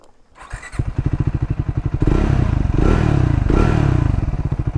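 A Triumph Scrambler 400 XC single-cylinder engine thumps loud and close while riding, its rapid, even pulses rising into a fuller, rougher drone as it pulls away and accelerates, with no talk over it.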